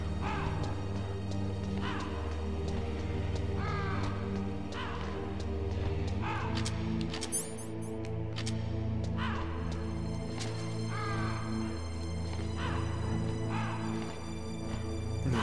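In Metal Gear Solid, crows give repeated hoarse caws every second or two over a steady, droning musical backdrop, moderately loud and spaced out across the scene.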